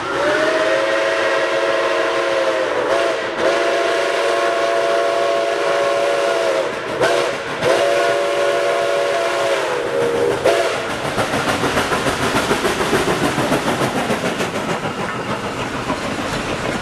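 A steam locomotive's whistle blows loud and near in three long sustained blasts, then the train rolls past with rhythmic clattering wheels and chuffing that fill the rest.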